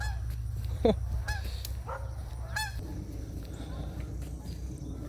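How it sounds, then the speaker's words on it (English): Several geese honk in short, scattered calls over a steady low rumble, some fairly close, with a brief voice-like sound mixed in. "hello geese."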